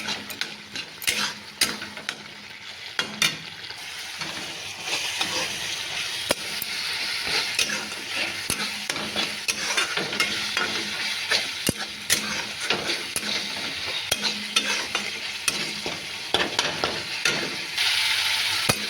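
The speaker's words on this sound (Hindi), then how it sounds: "ମସଲାରେ ଭଲସେ କଷିଦେବା।" Pointed gourd and potato fry in masala in a pan, with a constant sizzle under repeated stirring and scraping clinks of a utensil against the pan, close and fairly loud, with no talking.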